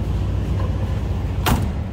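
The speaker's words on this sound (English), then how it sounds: "Door closes nice." A single solid car door thump near the end of a 1960 Pontiac Bonneville Convertible, heard over its steady idling 389 engine rumble.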